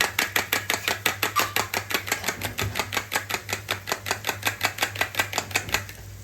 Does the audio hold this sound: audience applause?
no